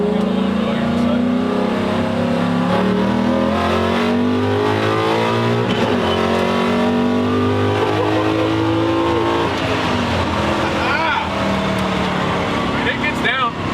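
A 1969 Ford F100 pickup with a Coyote V8 engine roars and revs up under acceleration on a road, rising and shifting in pitch, with people talking inside over the engine noise.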